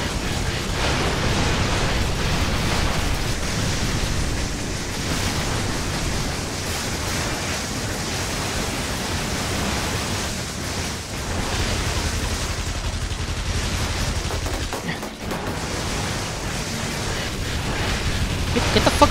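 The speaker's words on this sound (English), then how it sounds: "Get the fuck away from my explosions!" Explosions in the video game inFamous form a dense, continuous roar of blasts and crackling rumble that fills the whole stretch at steady loudness.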